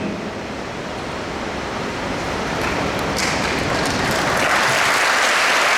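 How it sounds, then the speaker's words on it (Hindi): A large lecture-session audience applauds, a dense wash of clapping that builds gradually louder and continues without a break. "ये ताली आपने अपने लिए बजाई"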